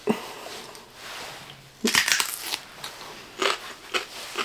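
Celery spread with peanut butter is bitten and chewed, with a few sharp crunching bursts between quieter stretches of chewing, close up and alone with no talking.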